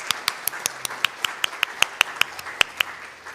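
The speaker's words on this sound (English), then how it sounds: "stand up so we can applaud you and say thank you in advance" Sparse, evenly spaced claps from a small audience at a city address, a few distinct hand claps ringing out over a quiet room for about three seconds.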